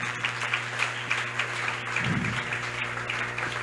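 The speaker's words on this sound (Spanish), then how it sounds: "Fuerte ese aplauso." A church congregation applauds during a sermon, giving a continuous round of clapping at a steady level, with a low hum and a brief vocal murmur in the middle.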